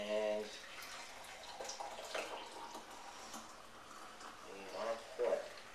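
Water poured from a Keurig K-Cup brewer into a one-cup French press, a steady mid-level splashing stream that swells near the end, with a voice talking faintly underneath.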